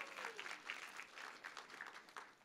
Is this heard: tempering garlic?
no